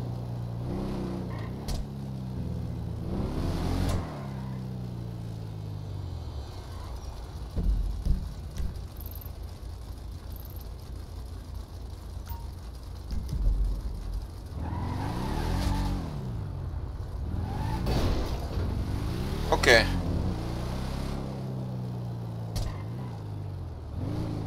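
A car in the GTA roleplay game drives toward the highway, its engine droning steadily with rising and falling revs and a few surges, loud and continuous throughout with no talk.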